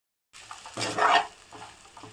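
Fish curry (nethallu pulusu, small fish with chilli powder and salt) bubbling in a pan while a spoon stirs it, a soft sizzle swelling to a louder scraping burst mid-clip, then settling back to a low simmer.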